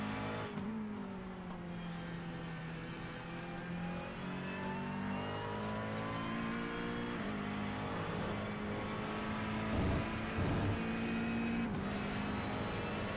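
Several race cars at full throttle on the Circuit de Spa-Francorchamps in a sim racing game, a steady loud engine drone with rising and falling revs, and a brief swell around ten seconds as cars pass close.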